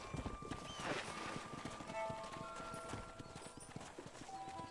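Horse hooves trot in a steady clip-clop rhythm in the Western video game Red Dead Redemption, close and continuous under game music tones, with no talking.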